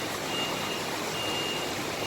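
An Eka Cepat bus entering Tirtonadi terminal in Solo gives off a faint, steady reversing beep tone over a wash of broadband engine and yard noise, with no talk.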